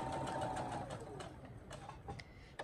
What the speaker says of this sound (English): So I'm going to go ahead and I'm just going to start to sew.